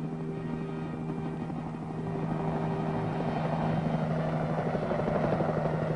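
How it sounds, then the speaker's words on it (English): A military helicopter delivering artillery, its rhythmic rotor chop and engine whine continuing throughout, growing somewhat louder and closer in the second half. "The possibilities of pickup and delivery of artillery by helicopter is now in active"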